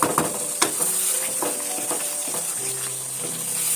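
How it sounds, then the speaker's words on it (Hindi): Mutton, potatoes and peas sizzle and fry in a pan for aloo matar gosht while a spoon stirs them, giving a steady close hiss with scraping strokes and light clinks of the pan. "इसे मैं 5-6 मिनट अच्छी तरह से भूनूंगी"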